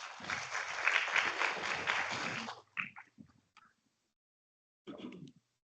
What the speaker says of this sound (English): Please, a little applause for him.